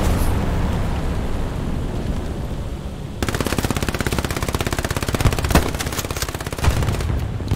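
Katyusha rocket artillery barrage in the Stalingrad warfare video game Hell Let Loose: a sustained roar gives way to a dense, rapid crackle of overlapping launches and impacts, loud and continuous with a few heavier thumps.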